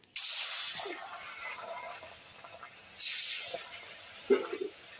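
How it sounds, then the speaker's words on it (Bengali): Water poured into a hot wok hisses sharply in two loud bursts, the first near the start and the second about three seconds later, each fading into a softer steamy hiss. "প্রথমে আমি একটু কড়াইয়ে জল দিয়ে দেবো।"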